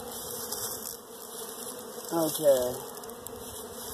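Honey bees buzz steadily around hives during spring hive cleaning, with a closer bee droning past loudly midway and a brief spoken word.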